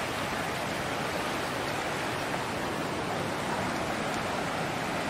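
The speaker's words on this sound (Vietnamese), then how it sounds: "Suối đổ xuống đây" Continuous broadband rush of a stream tumbling down over rocks near a longhouse area in Buôn Đôn, steady and fairly loud throughout with no break.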